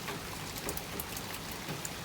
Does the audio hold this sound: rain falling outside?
yes